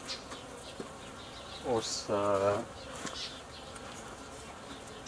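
Honeybees buzz around an open hive while a nucleus colony is split from a queenless colony, a steady insect drone under brief bursts of nearby talk.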